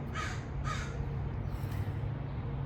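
A crow gives two quick, clear caws near the start, then falls quiet over a steady low background hum, with no one talking.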